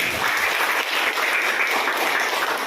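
Students clap for a classmate named Opi in a classroom, a loud, close, dense burst of hand claps that holds steady for a few seconds.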